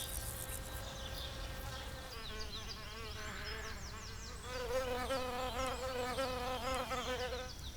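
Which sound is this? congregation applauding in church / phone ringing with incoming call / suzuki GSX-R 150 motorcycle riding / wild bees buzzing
wild bees buzzing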